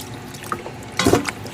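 Water runs and splashes briefly as beef spare ribs are soaked, with a couple of short drips and a louder gush near the end, close by in a kitchen.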